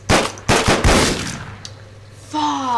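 Gunshots in the video game Deadbolt: three or four sharp, loud reports fire in quick succession, each with a ringing decay, followed by a quieter metallic tone.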